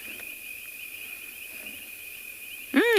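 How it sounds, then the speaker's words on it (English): Insects drone with a steady high-pitched whine on a sunset safari, faint and continuous, until a sudden louder chirping call cuts in right at the end. "I can hear all the insects."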